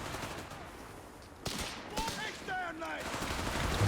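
A heavy machine gun rattles out in bursts amid a Company of Heroes 3 battle. Staccato fire over a steady battlefield din starts softly, then hits in sharper, louder volleys near the end.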